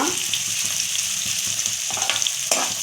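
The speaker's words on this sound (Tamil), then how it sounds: "அந்த வெங்காயம் வெள்ளைப்பூடு கருவேப்பிலை எல்லாமே நல்லா வேகட்டும்" A steady, loud sizzle of onions, garlic and curry leaves frying in hot oil, with occasional scraping stirs, close up and continuous.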